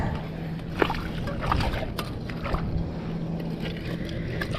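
Seashells found at Lovers Key State Park are rinsed in shallow water, making soft sloshing and light splashing close by, with a few small clicks over a low, steady background.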